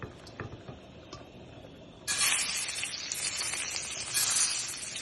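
Shrimp drop into hot olive oil in a pot and a loud, close sizzle erupts suddenly and holds steady, after quieter clinks and handling sounds beforehand.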